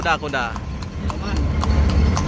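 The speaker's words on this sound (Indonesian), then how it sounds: "Nah ini kuda." A horse pulling a delman cart in Jakarta clip-clops with a regular, close rhythm of hoof strikes on pavement while someone talks over it.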